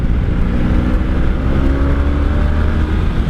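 A 1984 Honda Sabre V65 VF1100S motorcycle's engine while riding, a loud, steady low rumble with wind rush, continuous and close throughout with no talking.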